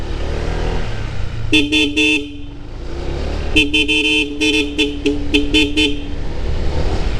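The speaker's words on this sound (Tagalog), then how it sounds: "Wait lang, subukan natin yung ating dual horn" A loud, close dual-tone motorcycle horn on a Honda ADV 160 blares in a quick burst of three honks, then a longer series of short honks, over a steady idling engine.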